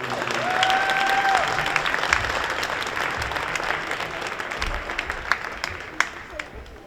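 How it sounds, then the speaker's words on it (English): A wrestling event crowd in a gym gives sustained applause for sponsors, a broad steady wash of clapping that slowly fades, with a few loud individual claps standing out and a faint voice and whistle-like tone early on. "If y'all could please give a big round of applause for our sponsors."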